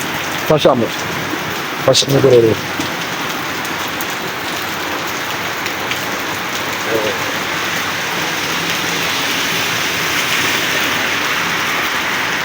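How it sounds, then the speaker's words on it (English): Steady rain hisses throughout, with a couple of brief clatters and knocks near the start before the downpour continues evenly on its own. "It's still raining"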